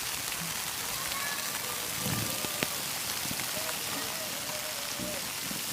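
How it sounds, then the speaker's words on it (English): Torrential downpour pounding outside a house, heavy enough to overwhelm the gutters, a constant dense hiss of rain with scattered close drips and splashes. "This is torrential downpour."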